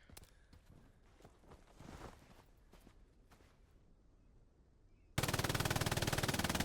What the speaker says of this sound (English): I love the sound of their machine guns so much.